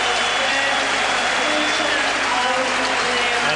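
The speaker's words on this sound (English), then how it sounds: "Listen to the applause here for Jari Litmanen." A stadium crowd at a 2001 Champions League qualifier between Haka and Liverpool applauds as Jari Litmanen is substituted, a broad, steady roar of clapping under a match commentator's voice.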